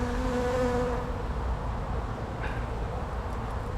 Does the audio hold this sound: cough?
no